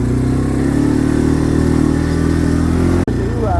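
An ATV four-wheeler engine idles steadily and loudly up close on a remote forest trail, a constant mid-pitched rumble with faint clatter and one brief dropout near the end.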